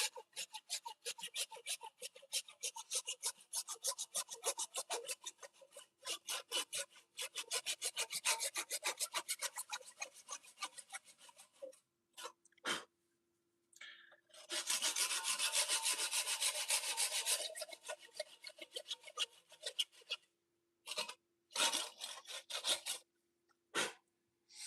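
Steady rhythmic rasping of a Japanese pull saw cutting wood, many quick strokes, then a longer burst of scraping and scattered short rubs, close up.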